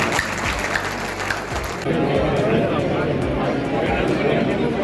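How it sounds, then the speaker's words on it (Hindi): Crowd clapping to welcome the Lok Sabha Speaker at a local event, starting under voices and then swelling into louder, steady applause with chatter. "लोकसभा अध्यक्ष जी का जोरदार ताली बजाकर गौरवों से स्वागत है।"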